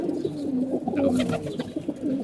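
Pigeons kept for flying coo softly and continuously up close, overlapping low throaty calls rolling on in an uneven rhythm, with faint background noise.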